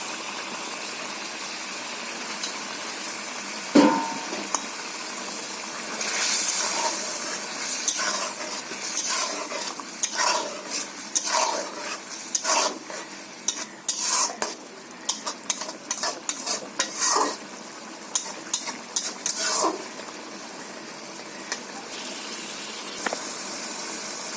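Fried potatoes tumble into a sizzling chun fish curry and get stirred, a steady frying hiss broken by a run of quick scraping, clattering spoon strokes near the pan.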